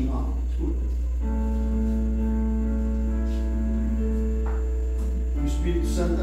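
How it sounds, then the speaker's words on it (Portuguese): A small hand bell rings with a clear, sustained metallic tone that decays slowly, then chimes again, under a steady low hum and faint voices in the background. "Toca o sininho para eles aí, ó. Ó o sininho"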